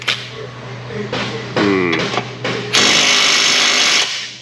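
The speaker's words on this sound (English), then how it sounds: "big wrench on the top to hold it. Electric wrench on the bottom." An electric impact wrench works a steering bolt nut on a 2011 Toyota RAV4 in short loud bursts, with mechanical whirring and a sustained high whine near the end, while a voice speaks briefly between bursts.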